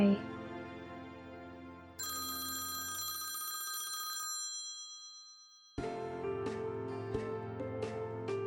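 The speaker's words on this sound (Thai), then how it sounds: "เขาเดินออกห่างจากพวกเราเพื่อรับโทรศัพท์" A telephone rings with a bright electronic tone that repeats and changes pitch, loud and close with no talking over it.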